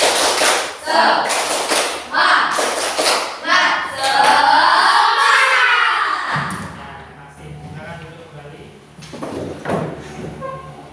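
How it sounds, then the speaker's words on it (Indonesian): Classroom students perform the rhythmic 'tepuk semangat' clapping chant, with sharp clap bursts in a patterned sequence mixed with chanted voices, followed by a sustained vocal passage and quieter talk afterward. "tepuk semangat dulu ya, supaya lebih semangat"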